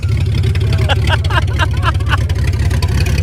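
Engine of a cheap, poorly running all-wheel-drive BMW 325xi E46 rumbling steadily at idle, loud and close, with someone talking over it.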